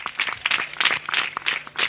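A church congregation at a gospel meeting claps hands together in irregular bursts. The claps are moderately loud and sound sparse rather than a full, steady ovation.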